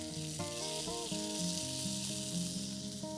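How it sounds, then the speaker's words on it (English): Grated tomato goes into a pan of fresh turmeric sabzi, setting off a steady, loud sizzle that continues throughout beneath melodic background music. "The turmeric looks done, and now let's add in 1 tomato grated."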